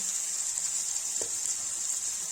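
Onion, ginger and garlic fry in hot oil, giving a steady, even sizzling hiss with a couple of faint soft clicks. The sound is quiet and continuous, with no talking.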